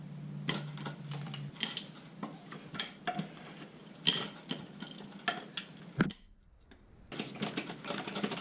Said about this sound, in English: So we just need to undo all the bolts that run across this line here.